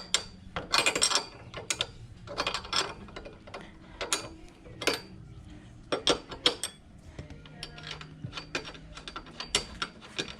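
Ratchet wrench loosening the rear shock absorber bolts on a Honda CT125 motorcycle, giving bursts of quick metallic clicking strokes with brief pauses between them, close up and fairly loud.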